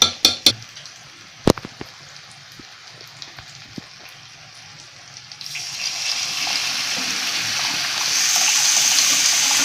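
Cooked white peas with water poured from a pressure cooker into a pan, a steady gushing splash rising after a few clanks and lasting to the end.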